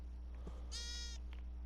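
A single Minecraft sheep bleat, clear and mid-distance, rises briefly over a steady low background hum.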